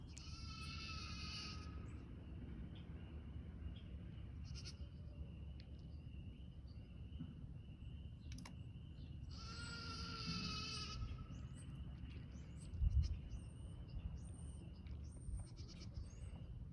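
Baby goats bleating out in the yard: two faint, distant bleats with a quiet outdoor background and insects.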